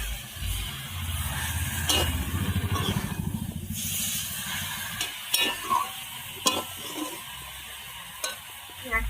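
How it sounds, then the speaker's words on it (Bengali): Chalta (elephant apple) pickle with turmeric is stirred in a pan, the spoon scraping and sloshing through the thick mixture with a soft sizzle, followed by several sharp, separate knocks and scrapes. "এবার আমি এটাকে নেড়ে নাড়বো কিছুক্ষণ"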